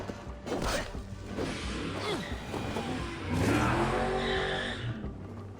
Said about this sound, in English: Damn cars in the outside world.